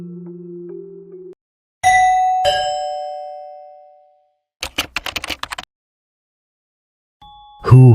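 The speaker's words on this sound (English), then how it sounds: "Who is literally ringing the doorbell at this time?" Two-tone ding-dong doorbell chiming at night, ringing out clearly twice with long decaying tones, followed by a short rattling burst and another sound starting at the end.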